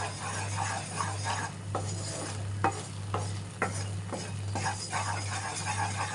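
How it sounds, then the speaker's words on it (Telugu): Ghee is stirred into a gram flour mixture for Mysore pak, a spoon scraping and clinking against the pan in repeated strokes over a low steady hum, fairly quiet and with no talking. "మిగతా నెయ్యి కొంచెం కొంచెంగా వేసుకొని కలుపుకుందాం"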